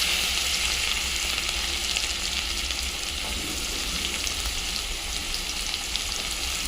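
Chopped onion frying in hot oil in a kitchen pan, seasoned with cumin, dried chilli and asafoetida, giving a steady, dense sizzle that continues without a break and without voices.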